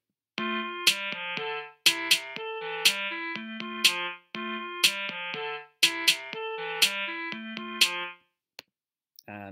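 Chrome Song Maker's woodwind voice plays a looping melody of clear, sustained tonal notes in a steady rhythm, repeated in phrases with brief gaps between them and no talking.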